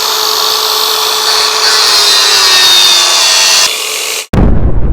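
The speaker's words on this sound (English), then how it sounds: "you just want to cut around the edge here with a grinder" Angle grinder cutting around the edge of a plastic motorcycle airbox during a snorkel install, a loud steady high-pitched whine held for about four seconds before the tool stops and a thump follows.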